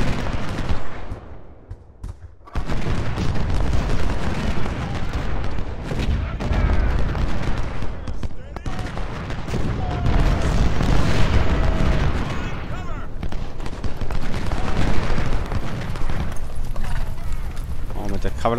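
Cannon broadside fire in the video game Ultimate General: Civil War, repeated loud booms and rumbling gunfire blending into dense continuous battle noise, with someone talking over it.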